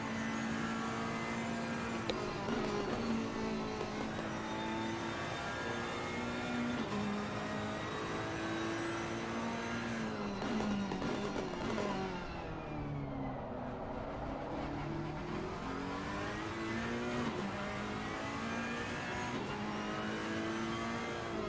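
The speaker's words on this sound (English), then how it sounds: "We're going to sit on board with him for a little bit in this SMP Ferrari." An SMP Ferrari race car roars onboard in the Assetto Corsa Competizione racing game, its engine droning steadily and rising and falling in pitch through shifts and corners, moderately loud and continuous.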